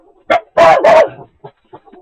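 Two loud, sharp dog barks close by, followed by a few fainter yips trailing off.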